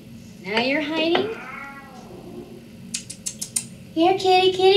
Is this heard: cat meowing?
yes